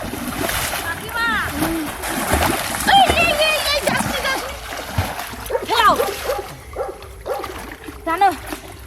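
Splashing and churned water from people wading and fishing in a home pond, irregular splashes close by, under frequent chatter and a shouting voice throughout.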